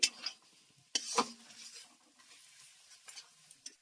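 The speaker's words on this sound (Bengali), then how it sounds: "এইবার আমি ভালো করে এটাকে ভেজে নেব" Chili powder frying in a pan for chicken biryani, with spoon scrapes and stirring bursts over a soft, intermittent sizzle, heard up close.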